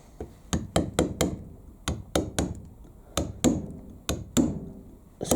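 A steady series of about a dozen crisp mallet strikes on a chisel cutting into Southern Stone for a house sign, close and loud, landing in an irregular working rhythm with short pauses between groups.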